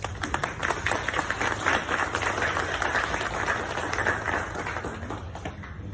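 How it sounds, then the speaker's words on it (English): A crowd at a Cub Scout training event claps steadily for several seconds, a dense patter of many hands that gradually thins toward the end. "Let's give them a round of applause."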